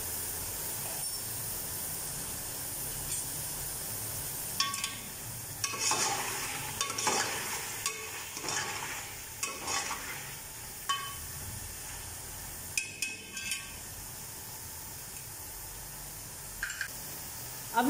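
Fresh curry leaves and chili flakes fry in a pot for beef pulao. A faint steady sizzle runs underneath, and bursts of spoon stirring and scraping come in clusters, quiet and close, without speech.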